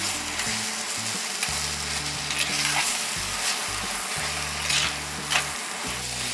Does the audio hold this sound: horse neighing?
no